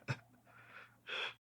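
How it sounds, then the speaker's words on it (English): A dying man lets out a final breath: a sharp gasping intake followed by a soft, breathy exhale that swells into a louder drawn-out sigh before cutting to silence. "his breathing stops, letting out one final exhale"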